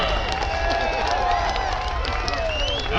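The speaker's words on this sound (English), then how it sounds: "Let's have a round of applause for these two bantamweight" Crowd at a championship bantamweight boxing bout applauding and cheering, a steady dense roar of clapping and voices with no breaks, fairly loud and close throughout.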